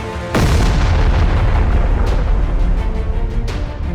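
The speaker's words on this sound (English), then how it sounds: "And then his warp pack exploded." A Skaven warp pack blows apart in a fantasy battle, a sudden loud boom that swells into a long rumbling roar, with further crackling blasts rolling through the noise.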